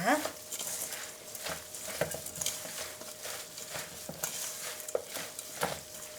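Hands toss and squeeze spicy, sweet-sour squid salad with crisp vegetables and vinegar in a large metal mixing bowl. A soft, steady, wet squelching and pattering is heard close by and fairly faint.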